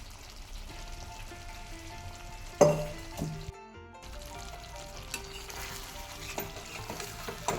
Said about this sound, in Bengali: একটু হালকা করে মিশিয়ে নেব এভাবে এরকমই হবে এই রেসিপিটা হালকা করে নাড়তে হবে